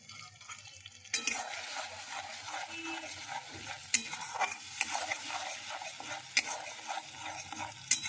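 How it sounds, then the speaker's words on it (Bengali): Spice masala of chilli powder, salt, turmeric, ginger, garlic and onion being stirred and fried in a pan for an egg and potato curry, with a steady close sizzle and scraping spoon strokes throughout. "আর মশলাটা এখানে কষিয়ে নেব"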